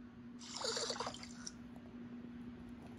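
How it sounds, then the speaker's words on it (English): Water splashes in a bathtub in a short burst near the start, then fades to a quiet, steady background hum. "Stop splashing in the tub like a dingleberry!"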